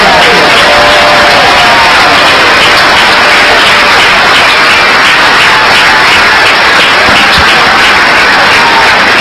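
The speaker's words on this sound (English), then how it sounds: "Let's give one more round of applause to our graduates." Loud, continuous applause for nursing graduates at a pinning and commencement ceremony, a thick, unbroken roar of clapping from a large crowd, heavily saturated and steady from start to finish.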